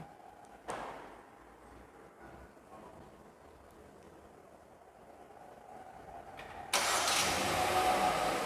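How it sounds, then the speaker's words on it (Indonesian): A Hyundai Stargazer MPV engine is remote-started with the key from outside the car, a quiet idle hum building before a sudden louder steady engine roar kicks in near the end, close by with no talk. "Kita coba aja yuk nyalain mesinnya dari luar."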